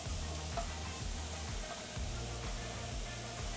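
Sliced mushrooms and green peppers sauté in a pan with a steady, soft sizzle and faint crackle, a close and even hiss with no speech over it.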